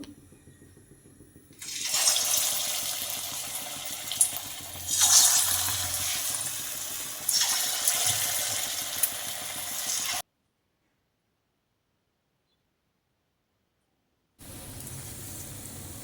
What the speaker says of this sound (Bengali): সর্ষের তেল ভালো করে গরম করে একটু ছোট ছোট করে বড়ির মতো ফেলে দেবো